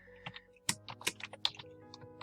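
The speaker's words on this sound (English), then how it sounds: "I got a new keyboard because the other keyboard died" Keys clatter on a new computer keyboard in a quick, irregular burst of crisp clicks, close and fairly quiet, with no voices.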